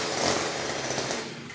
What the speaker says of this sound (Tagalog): Grass cutter na may gulong din po o trolley.